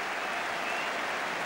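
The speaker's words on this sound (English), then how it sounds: "Crowd are giving him a really generous round of applause." Football crowd at a stadium applauding a substituted player limping off, a steady, dense wash of clapping from many spectators throughout.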